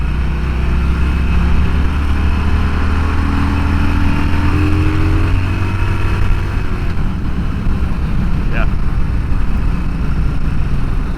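A 2009 Harley-Davidson Sportster 1200 Custom's V-twin engine drones loud and continuous while riding, with a steady rumbling note and a slight lift in revs, heavy wind buffeting throughout.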